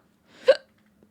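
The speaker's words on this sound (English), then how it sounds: "I have the hiccups." A single sharp hiccup, close and fairly quiet, with a short breathy onset, followed by near silence.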